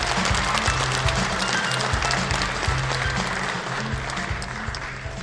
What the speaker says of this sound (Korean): 여러분 다시 한번 뜨거운 박수로 축하해 주시기 바랍니다